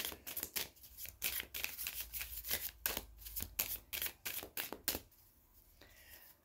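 Tarot cards are shuffled and drawn in quick riffling bursts, a dense run of crisp flutters and slaps close by, then a brief softer pause near the end.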